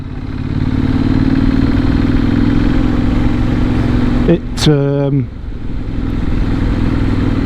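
A Benelli Leoncino 800 Trail motorcycle rides along with a steady, loud engine drone, then gives a brief rising rev burst partway through before settling back to a constant hum.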